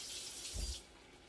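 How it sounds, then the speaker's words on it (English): Water runs from a tap for cooking salmon in a creamy Dijon chive sauce, a soft hissing flow with a brief deeper gush in the middle before it tapers off, no talking. "I need 1/4 cup of water anyway, so let's do that."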